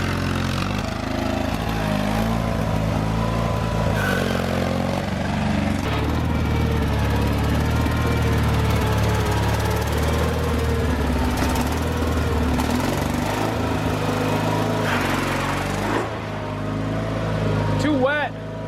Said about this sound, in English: I'm gonna try to talk him into doing a wheelie on the lawnmower.